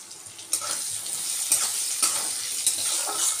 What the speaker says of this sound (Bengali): এখন কুমড়োটাকেও আমি একদম ভালো করে ভেজে নিচ্ছি।